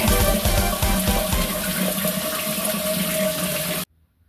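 Water pours steadily and loudly from a newly installed rain shower, a dense continuous rush that cuts off abruptly near the end.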